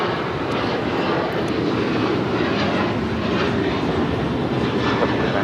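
An American Airlines Boeing 737-800 jet takes off at LAX bound for Chicago, producing a loud, continuous roaring engine rumble that holds steady throughout, with no talking heard.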